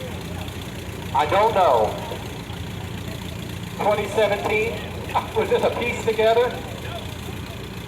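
An antique Minneapolis-Moline Universal RTU tractor idles steadily at a parade of power, its even engine rumble running throughout while people talk over it nearby.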